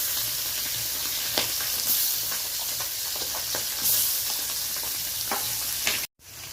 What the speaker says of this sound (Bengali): মাছটা তো ভাজাই হচ্ছে, মাছটা ভাজা হোক।